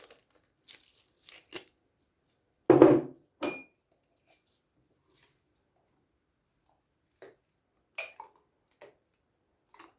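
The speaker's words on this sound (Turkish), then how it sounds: "Ve kapağımızı kapatacağız" Sparse clinks and taps of glass and metal, with one louder clattering twist around the middle as a jar lid is closed, then a few light knocks in a quiet room.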